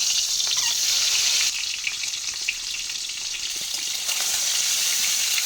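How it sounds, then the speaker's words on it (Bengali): Boiled eggs coated with salt and turmeric fry in hot oil, giving a steady close hiss and spatter of sizzling with a few small knocks, and no one speaking. "তেল গরম হয়ে গেছে, তেলে আমি দিয়ে দিচ্ছি, ভেজে নেবো হালকা করে"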